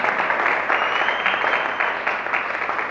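A church congregation applauding and acclaiming, steady dense clapping from a large crowd with a faint sustained tone above it, loud and continuous.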